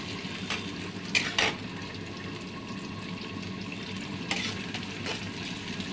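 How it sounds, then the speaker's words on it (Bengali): Prawns frying in oil in a pan while being gently stirred: a steady low sizzle with a few brief scraping clinks from the utensil, no voices. "আলতোভাবে নাড়তে হবে।"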